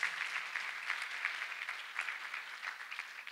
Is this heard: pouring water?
no